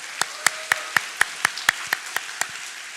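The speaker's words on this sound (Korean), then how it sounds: "아이들 인사할 때 큰 박수로 격려해 주십시오." Sharp individual claps ring out in a church service as children bow, about a dozen hand claps in an even, steady rhythm, crisp and moderately close with little crowd noise between them.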